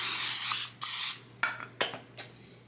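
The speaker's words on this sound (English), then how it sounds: "Now I just need to spray down the pan" Short hissing bursts of cooking spray onto a baking pan, several in a row with pauses between, close to the mic and fairly loud, with no voices.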